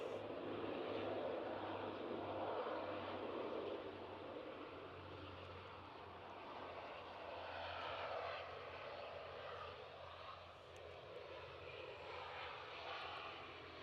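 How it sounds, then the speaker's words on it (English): Emerald Airlines ATR 72 turboprop engines roaring steadily at a distance at an airport, a broad droning rumble that swells and eases slightly over time. "So here's our Emerald Airlines ATR 72, as Gary was saying"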